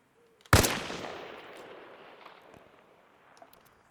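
A single loud FMJ sniper rifle shot goes off in Arma Reforger at a 100-meter range, a sharp crack followed by a long echoing tail that fades over several seconds.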